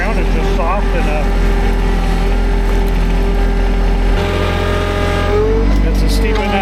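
A heavy tractor engine drones steadily at close range while pushing forward over a tree, its low rumble shifting pitch near the end as it strains under load, with voices faintly audible over it.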